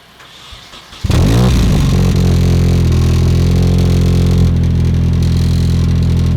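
Turbocharged car engine cranking and firing up in a garage driveway, a sudden loud catch after a brief crank followed by a steady, close, throbbing idle with a slight shift in tone.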